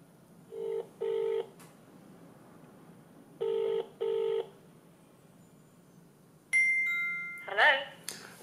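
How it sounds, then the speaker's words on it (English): Phone dialing beeps from a Samsung Gear S smartwatch come in two quick pairs, followed by a ringing tone with electronic chimes; faint background hiss between them. "Let's call her on the mobile."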